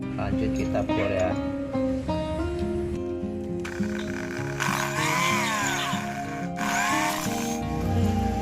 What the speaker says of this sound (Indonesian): Lanjut kita bor ya.